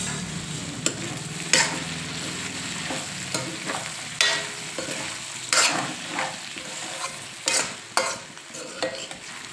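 Brinjal pieces frying in hot oil in a pan on a stove, a continuous sizzle broken by repeated scraping strokes of a spatula stirring the pieces.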